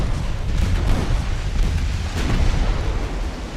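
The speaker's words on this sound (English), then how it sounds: "Maybe the Missoula start firing on that battleship." Warship guns firing on a battleship in the naval game Ultimate Admiral: Dreadnoughts: a loud, continuous rumble of overlapping booms with sharp cracks near the middle, sustained throughout with no talk.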